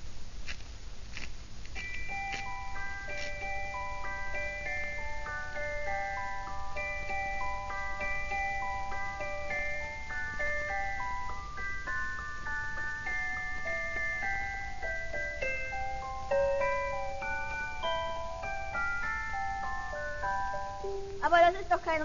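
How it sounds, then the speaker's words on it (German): A wind-up music box plinks out a steady, bright melody of picked metal tones for about twenty seconds, close and clear over a soft background hiss, with a few clunks near the end. "Ja, das ist eine Spieluhr."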